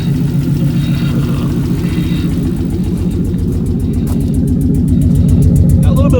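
A deep, throaty Coyote V8 engine swapped into an SN95 Mustang idles steadily up close, its lumpy pulsing rumble continuous throughout, rising slightly louder near the end.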